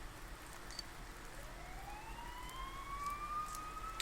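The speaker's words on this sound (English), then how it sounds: "Here, sirens nearby." A siren wails faintly in the distance, its tone rising and sliding over a low, steady hum, in the video game Persona 4 Golden.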